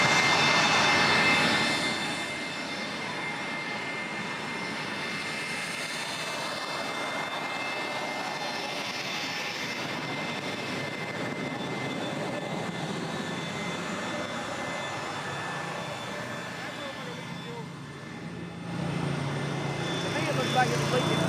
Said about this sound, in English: It's about to get really loud with this jet.